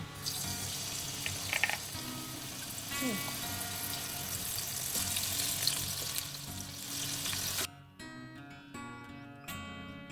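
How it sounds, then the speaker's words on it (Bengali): Potatoes fry in oil in a pan with a steady, bright sizzle for most of the clip; then the sizzle drops away and a few light clinks and kitchen sounds follow. "এবার ওই তেলেতেই আর একটু তেল দেব আমি দিয়ে আলুটাকে ভেজে নেব"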